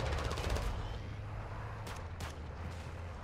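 Gunfire in the video game Call of Duty Zombie Royale sounds as a rapid burst of automatic shots over a constant background din, followed by a few isolated shots, all fairly faint.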